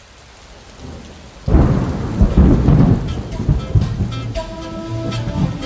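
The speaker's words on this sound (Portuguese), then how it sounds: "Eu trouxe uma cena de chuva para você ver, mas acima de tudo ouvir" Steady rain pours down in a rain scene, then rolling thunder rumbles in loud and close, followed by continued heavy rainfall with a faint musical tone underneath.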